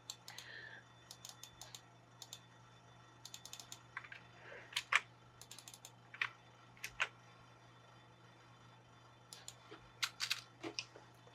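A computer keyboard is typed on close by while Python code is copied, giving short irregular clusters of light key clicks separated by brief pauses, over a faint steady hum.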